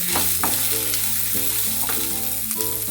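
Lentils fry in hot oil in a pan for pirandai thuvayal, giving a close, steady sizzle with occasional scraping stir strokes and no voices.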